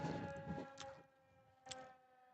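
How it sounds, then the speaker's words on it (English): A siren test near a ball field sounds as a tonal wail that rises and fades, with two brief bursts, under quiet radio-feed background. "Little siren test for you there."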